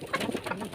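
Pigeons kept by a neighbour coo softly in short, low, warbling phrases, close but faint.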